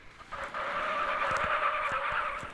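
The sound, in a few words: car skidding in a video game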